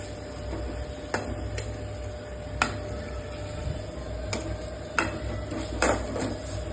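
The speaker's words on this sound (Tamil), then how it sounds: "நல்லா கிளறி விடுங்க" Food is stirred in a pot, with a spoon knocking and scraping against the metal in irregular sharp clicks over a low, steady background hum, no voices.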